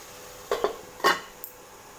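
A metal lid set down over a pot of chicken curry: two quick clanks of metal on metal, then a lighter tap, close and crisp against a quiet background.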